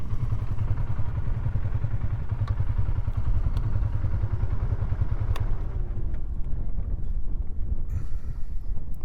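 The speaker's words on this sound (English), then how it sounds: "Who invited the wind back?" Heavy wind buffeting a microphone during a motorcycle ride in Johnson Valley, a dense constant low roar with the engine drone underneath and occasional thumps, loud and unbroken throughout.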